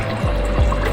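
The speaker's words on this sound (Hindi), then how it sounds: "इस तरह पानी डाल के मीडियम फ्लेम पे मैं इसे कवर कर दूँगी।" Water pours into a pan of half-cooked potatoes on the stove, giving a brief, close splash and gurgle with a couple of low sloshing bursts under it.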